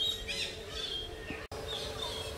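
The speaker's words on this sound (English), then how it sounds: "You just listen to the birds." Birds at Parrot Mountain garden in Pigeon Forge, Tennessee, sing and chirp in bright, scattered calls against a steady outdoor ambience, with no talking, continuing throughout apart from a momentary dropout.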